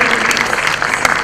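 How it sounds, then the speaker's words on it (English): Audience applause at a higher-education summit inaugural session, a short burst of dense, steady clapping filling the hall, loud and close throughout. "Please give a big round of applause to her."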